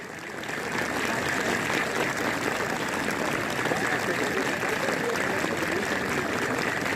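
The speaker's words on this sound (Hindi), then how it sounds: "ये तालियां लग रहा है भट्ट जी के लिए लग रही हैं, इसलिए लगातार जारी है" Sustained, dense applause from a large crowd at a UP Police passing out parade, loud and continuous after a quick rise at the start.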